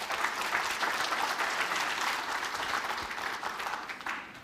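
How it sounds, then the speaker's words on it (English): Sustained applause from an audience at a university entrepreneurial fair, steady dense clapping filling the whole stretch with no voices over it, easing slightly toward the end. "a round of applause,"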